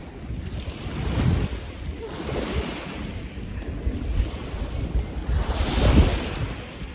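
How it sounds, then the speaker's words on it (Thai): Ocean waves at a beach, slow swells of surf building and washing in, heavy wind buffeting the microphone, no voices. "ฟังคลื่นเพราะๆ"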